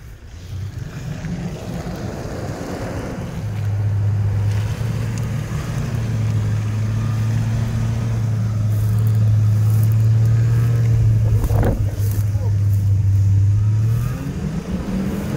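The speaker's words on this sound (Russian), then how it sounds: "смотри, Toyota едет" A Toyota off-road vehicle climbs a hill on a 2022 off-road raid near Rzhyshchev, its engine droning low and steady, then rising into a sustained, louder strain through most of the climb before easing off near the end.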